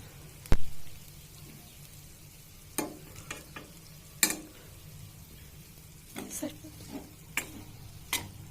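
Cooked rice is stirred and mixed into tangy wood apple pulihora, giving sparse scraping and clinking strokes of a spoon against a pan. The strokes are irregular and spaced apart, close by, with no voices.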